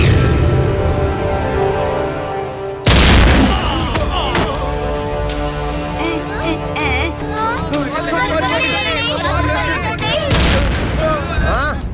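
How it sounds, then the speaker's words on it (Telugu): A sudden loud blast explosion bursts out in a Telugu television drama scene, then rumbles and crackles on beneath dense background sound for several seconds, with a second swell near the end. "ఎక్కడి నుంచి బ్లాస్ట్ శబ్దం వినిపిస్తుంది?"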